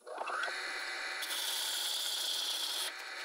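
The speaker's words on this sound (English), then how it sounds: "I'm starting off by turning the cup on the horizontal axis," Wooden cup being turned on a wood lathe along its horizontal axis, a steady rasping scrape of the tool cutting the spinning wood, close and continuous with a brief shift in tone near the end.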